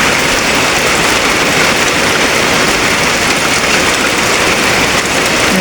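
Steady, loud rain falls continuously, a dense even roar of drops hitting surfaces close by, with no pauses or voices.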